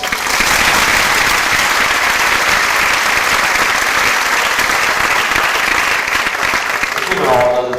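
Loud, sustained audience applause at a Miss & Little Miss Strassenfest pageant, a dense wash of clapping filling the room before a voice comes in at the very end.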